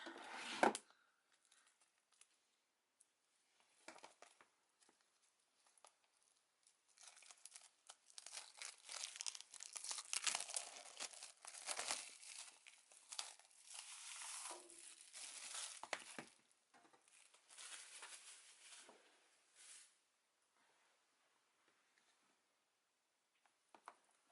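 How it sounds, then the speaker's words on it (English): Large scissors slice into crinkly plastic packaging while the wrapping rustles and crackles in bursts, quiet and close, with pauses between cuts. "let's make a small cut with my big scissors"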